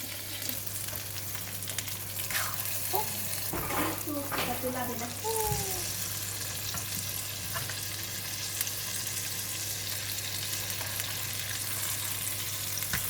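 A salmon steak sizzles loudly and evenly in a non-stick pan just after being flipped. A voice briefly speaks over the frying partway through.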